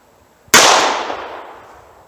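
A single loud gunshot from a .38 Special revolver firing a 200-grain Super Police round cracks sharply at close range, then rings out in a long decaying echo across an outdoor range.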